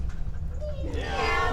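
A voice in an outdoor crowd at Speakers' Corner does a short drawn-out meow, imitating a cat, with a murmur of other people in the background.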